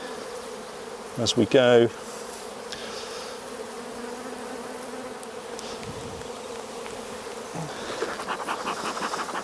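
Honey bees hum steadily and close during a hive inspection as the frames are scraped. A brief louder scraping burst comes early, and a few spoken words pass over the continuous buzz.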